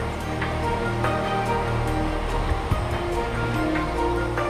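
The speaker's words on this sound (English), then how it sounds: "I'm literally right next to the waterfall." Steady, broad roar of rushing water, loud and close, continuous throughout with no voices.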